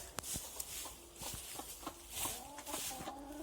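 Backyard hens cluck in short, scattered calls near a water drinker in a coop, with light scratching and footsteps in the bedding over steady background noise.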